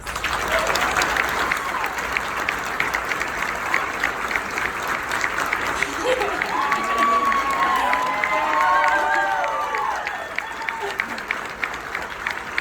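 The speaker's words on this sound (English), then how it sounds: "A round of applause for Sharita." Audience applause at a charity gala, a dense, continuous roar of clapping mixed with cheering from a large crowd, loud throughout, with a few whoops and voices rising above the clapping partway through.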